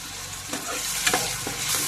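Ginger-garlic masala paste and green chillies frying in a pan: a steady close sizzle with a few soft scraping stirs of a spoon, moderately loud and without speech.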